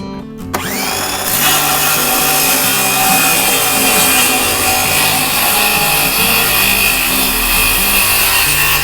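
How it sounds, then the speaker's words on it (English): A handsaw cuts through wood with loud, continuous, close rasping strokes that carry on without a break. "Usually I wouldn't do it with a handsaw,"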